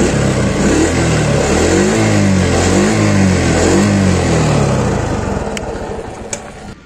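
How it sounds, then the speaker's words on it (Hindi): A 2022 TVS XL100 moped engine revs steadily through its exhaust, a loud, continuous mid-pitched drone that holds for several seconds and then eases off slightly, with no talking. "एक बार आपको मैं एग्जॉस्ट का साउंड भी सुना देता हूँ।"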